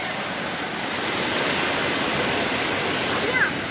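Parikkad waterfall near Vengara pours with a steady, dense roar of rushing water that holds at an even level throughout, close and loud with no other sounds standing out.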